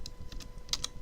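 Fast, light typing on a computer keyboard while a protein function name is entered into a search box, a short run of crisp key clicks with two sharper taps near the end, close and alone.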